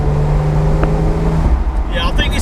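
Porsche 997 911 GTS engine blipping on a downshift, a steady engine drone that cuts off and then rises in a short rev, close and loud, with faint talk mixed in.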